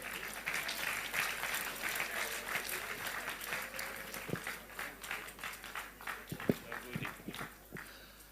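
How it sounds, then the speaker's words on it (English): A crowd at a Nigerian political rally for Peter Obi claps continuously, moderately distant and a little faint, with a few sharper knocks and thumps standing out near the end. "Let's keep clapping."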